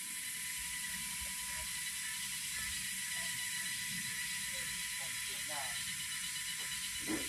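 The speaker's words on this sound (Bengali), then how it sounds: "পাখিও ডাকছিল, ঝিঝি ডাকছে, পাখি ডাকছে" Crickets in a quiet forest park near Aizawl make a steady, dense, high-pitched buzz that fills the daytime air without pause, with faint scattered chirps beneath it.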